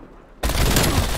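Video game gunfire bursting in abruptly after a quiet moment, a loud, close, continuous volley of rapid shots.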